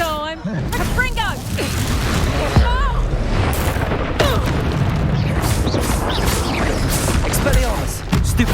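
Spell-casting blasts and impact booms from Hogwarts Legacy combat, loud and dense, layered with magical whooshes and crashes, while a voice shouts spell names over the action.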